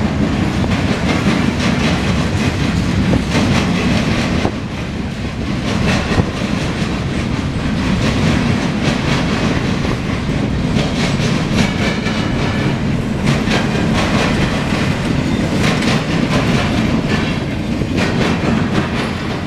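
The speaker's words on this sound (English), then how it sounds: "here comes the local train" A CSX local freight train rolls past in Marion, Ohio on a rainy day, its loud continuous rumble and clickety-clack of wheels on rail joints sustained close by throughout, with no talk.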